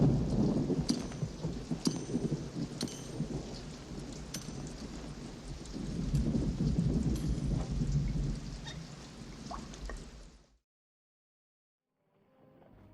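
Heavy rain falls steadily with repeated cracks and rumbles of thunder throughout, loud and close, before cutting to near silence and a faint return at the very end.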